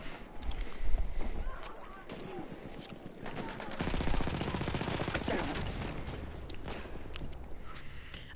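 Battlefield 1 battlefield gunfire, with rapid bursts and volleys of rifle and machine-gun shots crackling near and far and a heavier sustained barrage in the middle, heard alone without talk.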